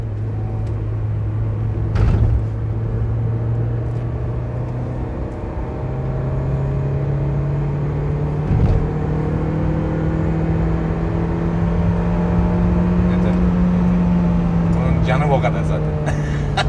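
A 2005 Renault Modus engine revs and accelerates as a steady droning hum rises slowly in pitch under continuous cabin road noise, heard from inside the car.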